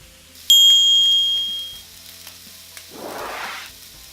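A sirloin steak sizzles in a pan. A sharp metallic clink opens the clip, then a soft hiss follows, and a louder burst of sizzling comes near the end when the meat is turned. No one speaks.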